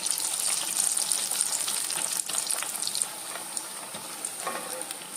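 Sukhiyan sweet snacks deep-frying in hot oil, a steady close sizzle and bubbling with occasional soft stirring and scraping, continuing without talk.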